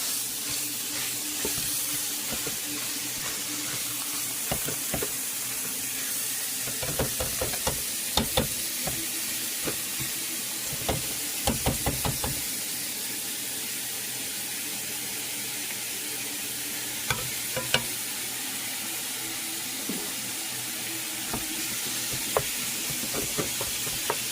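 Ground chuck for chili sizzles steadily in a pan, a constant close hiss broken by repeated scraping and knocking as it is chopped and stirred, with no talking over it.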